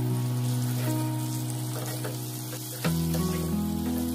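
Katla fish pieces go into hot oil with softened onions, slit green chillies and whole garlic cloves; a constant close, loud sizzle that surges and thickens about three seconds in.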